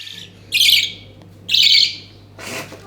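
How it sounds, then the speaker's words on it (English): Baby budgies chirping, three short bursts of high, raspy chirps close by over a low steady hum. "we stopped to pick up our baby budgies."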